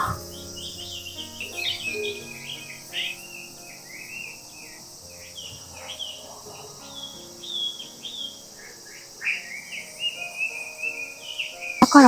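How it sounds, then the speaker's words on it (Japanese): A Japanese bush warbler sings in repeated high whistled phrases, moderately close, over a steady insect-like drone and quiet outdoor ambience at a ryokan in Tsukuba. "ウグイスの声かな。 すごい聞こえる。"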